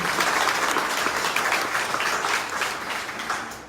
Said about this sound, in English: if you give me applause for all those folks doing all this hard work,